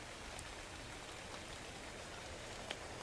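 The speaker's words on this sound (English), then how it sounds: "the rain's going" Rain falling in the video game Ark, a faint, even hiss of steady rainfall with a few soft drop ticks, continuous and quiet with no talk.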